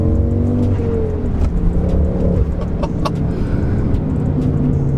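A tuned car's engine with an aftermarket exhaust revs loudly and steadily close by, a deep rumble rising and falling across several seconds with no talk over it.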